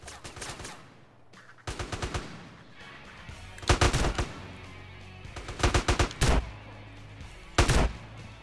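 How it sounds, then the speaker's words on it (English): Video game gunfire from GTA: San Andreas crackles in repeated short bursts of rapid shots, some loud and close, others fainter, spaced by brief pauses. "Wait, where's that other guy shooting from?"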